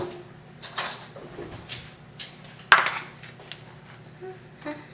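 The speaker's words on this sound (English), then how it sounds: "We're gonna get a spoon and we're gonna mix it." A spoon mixes enchilada cheese filling in a bowl, giving a few scattered clinks and scrapes against the bowl amid quiet pauses.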